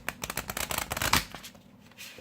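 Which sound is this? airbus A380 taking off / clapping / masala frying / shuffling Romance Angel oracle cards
shuffling Romance Angel oracle cards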